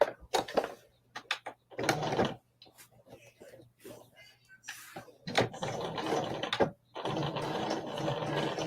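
A sewing machine stitching a zipper pouch runs in bursts of close, rapid mechanical whirring, stopping and restarting with short pauses and a few clicks, with a voice heard briefly in between.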